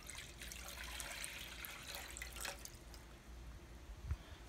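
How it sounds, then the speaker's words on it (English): Water and potassium nitrate being poured into a container, a steady close splashing trickle with a small knock near the end. "I have my water, my potassium nitrate, and I'm just gonna go ahead and pour this in right here."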